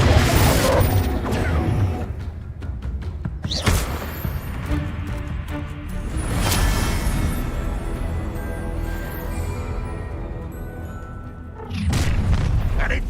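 Repeated spell blasts and booming impacts in the Hogwarts Legacy combat, with loud broadband bursts around 0.5, 3.5, 6.5 and 12 seconds over a continuous game score and rumbling effects.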